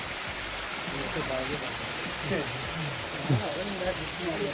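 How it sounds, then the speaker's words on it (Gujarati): Water falls steadily at a stop on the trek to the Rameswar Mahadev temple, a continuous rushing wash that runs the whole time while people talk nearby. "પાણી સારું એવું પડે છે અહીંયા"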